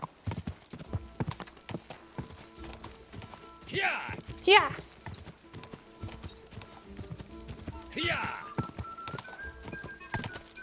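Horse hooves clip-clop at a racing gallop in the medieval game Kingdom Come: Deliverance 2, a steady rapid drumming throughout with a brief whinny, while a player shouts excitedly over it.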